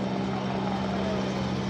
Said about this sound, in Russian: Вы наблюдаете прибытие к месту чрезвычайной ситуации спасательного вертолета «Анса» для проведения общей разведки